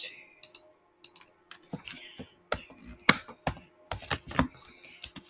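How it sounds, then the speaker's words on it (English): Typing on a computer keyboard before starting a game, heard as irregular bursts of close, crisp key clicks with short pauses between them, and no talking over it. "I have to type it in."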